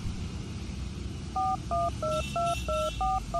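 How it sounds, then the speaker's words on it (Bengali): A phone keypad is dialled, sending a quick run of about eight clean two-tone beeps in a steady rhythm over a low background hum. "কি কি নিতে হবে আরও একবার জিজ্ঞাসা করার জন্য ফোন করলাম"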